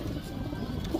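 Pigeons bathing in water give a brief, low, soft cooing, close by, with faint background noise.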